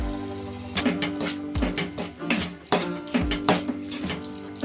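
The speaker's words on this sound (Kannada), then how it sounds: "ಈಗ ಇದಕ್ಕೆ ನಾನು ಸ್ವಲ್ಪ ನೀರು ಹಾಕೋತೀನಿ" Water poured from a vessel into a pan of fenugreek leaf stir-fry as it cooks. A steady, splashy pour with a few bursts runs under background music.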